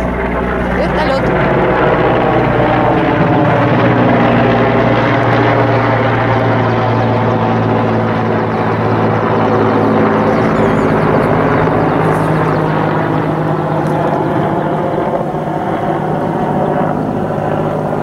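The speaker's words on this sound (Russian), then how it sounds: "Вертолет." A helicopter flying close by over a spring flood in Krasnokholm, its loud throbbing rotor drone and engine whine continuous throughout, with people talking underneath.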